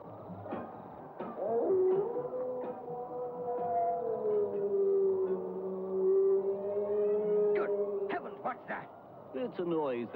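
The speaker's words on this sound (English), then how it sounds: "That's the cry of a hound." Hound crying out on the moor, a long wavering howl rising and sliding in pitch, heard at a distance with overlapping voices and other faint noises around it.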